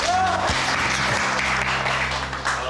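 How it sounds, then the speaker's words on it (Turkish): Applause rises under a busy indoor scene, steady clapping blended with background music and voices throughout. "Alkış alkış."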